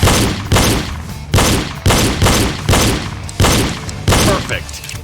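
Pistol shots fired one at a time during a shooting drill, seven sharp loud reports at roughly even intervals, each trailing off with a short echo.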